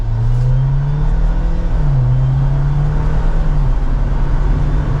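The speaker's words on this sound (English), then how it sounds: "But now let's go ahead and get the new Wrangler out on the road." A 2024 Jeep Wrangler Rubicon 4xE pulls away on the road in manual mode, heard from inside the cabin as a steady, loud drone that climbs in pitch, dips at a gear change, then rises again.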